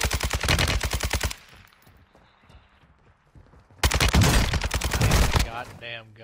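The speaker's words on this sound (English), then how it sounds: "They're shooting everywhere." Rapid automatic gunfire in a video game: two long, loud, dense bursts close by, separated by a quieter lull of a couple of seconds, with a faint voice near the end.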